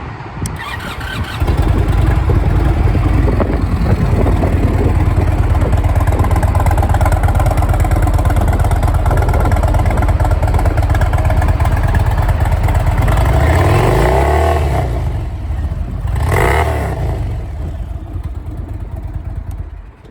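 A 2019 Indian Chieftain Dark Horse motorcycle engine cranks and starts, then settles into a loud, steady, close idle before a short rev rises and falls near the end and eases back down.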